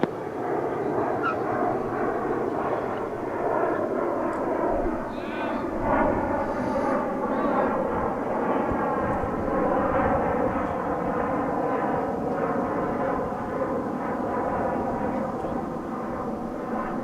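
A plane touching down at DFW International Airport, heard as a loud, steady roar that lasts throughout with no break.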